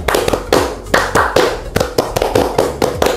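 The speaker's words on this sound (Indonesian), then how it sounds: "Kan tepuk pramuka itu 3 kali tuh" Scout rhythmic clapping, the tepuk pramuka, performed by a group: sharp, loud claps in a patterned rhythm of quick clusters and single beats, repeated close to the microphone without talk.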